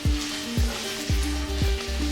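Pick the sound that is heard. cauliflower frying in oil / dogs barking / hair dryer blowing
cauliflower frying in oil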